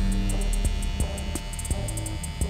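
Andis Slimline Pro Li cordless hair trimmer with a rotary motor running, a steady, fairly quiet electric hum with a few faint clicks, no talking.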